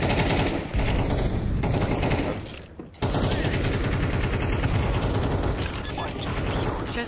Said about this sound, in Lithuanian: Net nesuprantu, kur šaudo